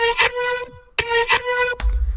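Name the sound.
vocoded synth vocal effect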